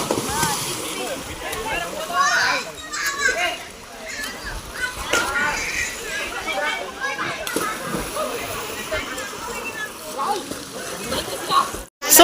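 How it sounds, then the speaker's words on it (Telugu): Children shout and play while water sloshes and splashes in a small swimming pool, a busy continuous mix of voices and splashing with people talking throughout. "సో ఫైనల్లీ పెద్ద స్విమ్మింగ్ పూల్లో దుంకైతే చిన్న స్విమ్మింగ్ పూల్లోకి వచ్చినాం"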